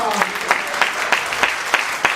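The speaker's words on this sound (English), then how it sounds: "Clap for Mima" A comedy club crowd breaks into applause, with a steady wash of clapping punctuated by about seven louder bursts at regular half-second intervals, fairly close and sustained through the short moment.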